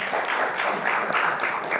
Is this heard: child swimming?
no